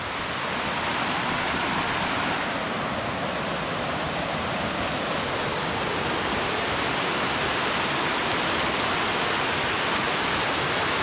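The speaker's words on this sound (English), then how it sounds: "I don't know if there's even a name for this waterfall, y'all. But it's really beautiful." Steady, loud broadband roar of a waterfall along the Foothills Trail, a continuous rushing wash of falling water with no break or variation, close by and alone without any voices.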